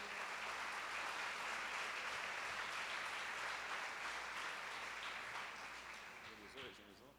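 Church congregation at a worship service applauding, a full, sustained clapping that gradually fades near the end as a voice begins to speak.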